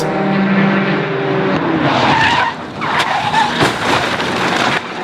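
A race car at the 2016 6 Hours of Spa WEC round skids and slams into a tyre barrier, a loud broadband rush of tyre scrub and impact noise that fades after a few seconds, with no one speaking.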